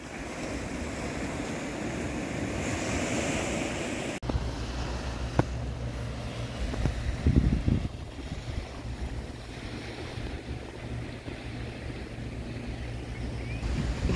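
Ocean waves wash onto a beach at sunrise on Isla Mujeres, a continuous soft surf hiss with wind noise across the microphone, moderately faint, with a few brief bumps and handling noises and no talking.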